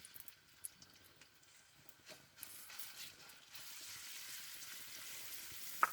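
Cumin seeds and ginger fry in hot oil in a pan while making spiced potato slices, a faint, steady sizzle with small crackles that grows fuller and denser in the second half, with no talking.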